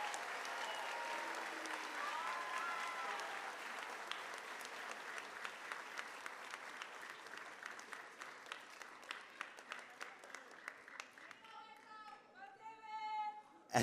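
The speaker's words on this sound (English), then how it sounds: "Can we have a round of applause for Miss Maddie and Mrs." A school audience at a fifth grade moving-up ceremony claps in a long, steady round of applause that thins toward the end, with a voice briefly speaking over the last claps.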